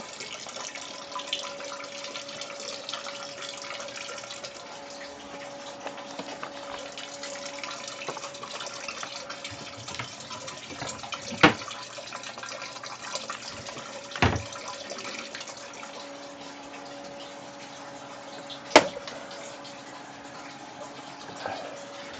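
Water runs steadily into a brewing vessel while a traditional Rauchbier is brewed, making a continuous hiss with a few faint clinks and knocks over about twenty seconds.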